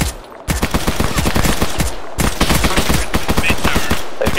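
Loud, close bursts of automatic gunfire from a military video game, rapid rattling volleys with two brief pauses between them.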